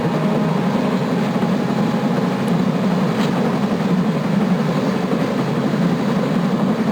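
A train running in the video game Broken Sword: Shadow of the Templars, a steady, continuous low rumble with a faint high whine that holds unbroken and loud throughout, with no talk over it.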